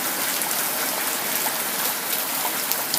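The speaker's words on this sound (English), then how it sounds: "It's a river, man. Right in front of the door." Floodwater runs like a river right outside a front door during flooding, a steady broadband rush and hiss of moving water that stays constant and fairly close, with no voices.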